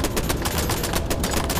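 Rapid automatic gunfire from the Spider Monster video game, a loud, dense burst of shots rattling continuously with no voices over it.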